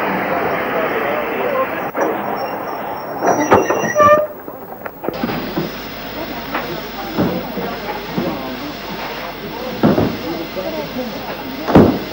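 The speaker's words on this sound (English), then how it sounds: "A 264 tank arrives at the main platform used for trains to Ruthin." A 264 tank steam locomotive draws into a station's main platform, with rumbling wheels, hissing steam and clanking rolling past steadily at close range, while someone talks over it.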